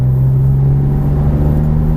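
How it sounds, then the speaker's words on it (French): A Porsche 997 GT3 on a race circuit drones loudly at full throttle, a steady close engine tone that holds without breaks. "On serre la droite, on accélère à fond, frein fort, on soulage."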